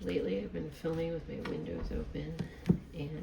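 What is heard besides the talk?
No everyday noises stand out.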